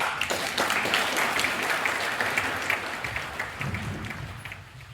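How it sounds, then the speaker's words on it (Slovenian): Audience applause fills a small theatre during a comedy play, steady dense clapping that gradually thins and fades toward the end, with no talk over it. "jih opogumimo z močnim aplavzom"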